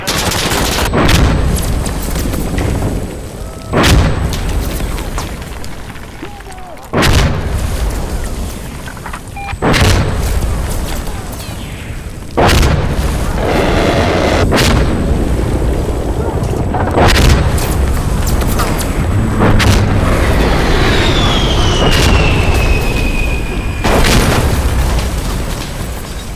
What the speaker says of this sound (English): that A10 sound is just incredible